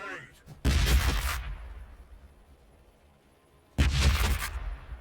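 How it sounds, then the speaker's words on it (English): Two heavy frag grenade blasts from Warhammer 40K Battlesector, each a loud broadband burst lasting under a second, separated by about three seconds with a rumbling tail and low background between them. "Frags. Frags. Throwing grenade."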